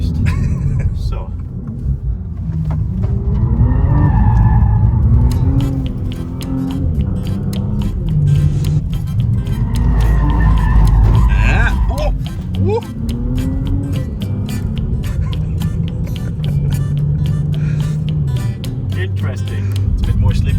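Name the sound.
Audi RS5 hybrid driving fast through corners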